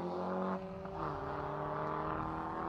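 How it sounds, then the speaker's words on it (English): A Sunbeam Lotus four-cylinder rally car on an asphalt stage rally passes at a distance, its offbeat engine note a faint, droning tone that shifts in pitch as it goes by. "It's quite an offbeat sound for a four-cylinder engine."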